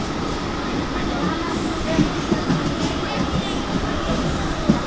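A train sits at a station, its steady rumble and rail clatter filling the scene loudly and continuously, with occasional metallic clicks over the drone.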